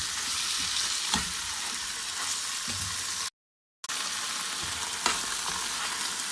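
Tomato paste being stirred into a stuffing mixture for bread pizza pockets in a hot pan, giving a steady close sizzle with soft scraping stir strokes throughout and a brief break partway.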